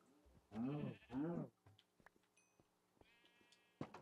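Two loud sheep bleats from the Minecraft video game come in quick succession up front, followed by faint clicks and small game sounds.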